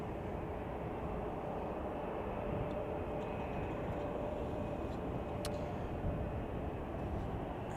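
A United Airlines 767-300ER at Chicago O'Hare Airport produces a steady, distant low roar of jet engine noise that stays constant throughout, with no voices.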